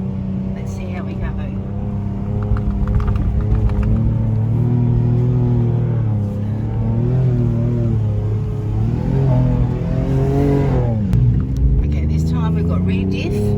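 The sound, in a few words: 4WD climbing sand dune with front and rear diff locks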